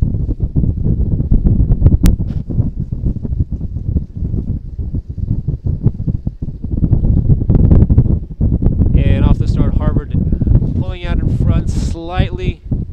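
Steady wind buffets the microphone as a headwind blows over the Charles River during a men's lightweight varsity eight rowing race with Harvard, Dartmouth and MIT, a continuous loud rush with a commentator talking over it throughout.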